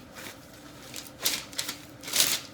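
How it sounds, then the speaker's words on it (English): Afghan naan dough being kneaded on parchment paper, a soft rustle broken by several louder crinkling pushes and slaps, close and without talk. "Knead for 2 to 3 minutes."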